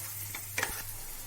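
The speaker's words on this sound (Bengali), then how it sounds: "দেখুন ডাল বাটাটা সমস্ত মশলা দিয়ে নাড়তে নাড়তে একদম ঝুড়ো হয়ে গেছে।" A short scrape sounds as chana dal paste is stirred with roasted spice powder, sugar and garam masala in a pan, over a faint, close sizzle.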